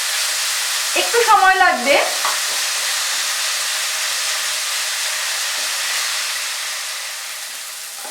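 Chicken pieces sizzle steadily in a pan, a loud continuous hiss that swells briefly as they are stirred early on, with a short spoken remark over it.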